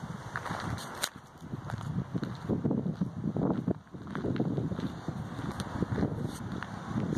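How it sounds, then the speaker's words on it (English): Gusty wind blows outdoors beside a 2018 Forest River Sandpiper fifth wheel trailer, buffeting the microphone with a rough, continuous rush that swells and dips. "it's a bit windy out here today."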